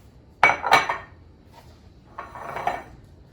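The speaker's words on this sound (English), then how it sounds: "And then I'm just gonna put that into my baking dish." Keto soda bread dough being placed into a baking dish, heard as two sharp clinks of the dish followed by a softer scraping and shuffling, close and alone.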